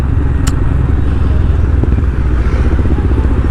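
A motorcycle is ridden on a long ride, its engine droning loud and close with a steady low throb and some rattling clatter, and no one speaking.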